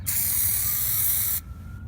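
An aerosol can sprays a Plasti Dip base coat onto a car in one sustained hiss lasting over a second, close and loud, then cuts off to near quiet.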